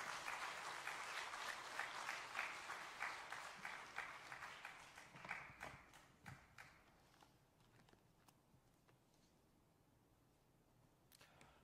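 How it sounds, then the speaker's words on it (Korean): A church congregation at an early-morning revival service claps to welcome a pastor, steady applause fading gradually into quiet after about seven seconds. "나오실 때 또 박수로 맞아주시면 감사하겠습니다"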